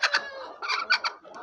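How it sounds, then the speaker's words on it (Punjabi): A black-feathered, black-skinned Kadaknath hen on a farm clucks in several short, close bursts with brief pauses between them, sounding clear and alone with no talking. "ਜੀ ਇਹ ਮੁਰਗੀ ਆ"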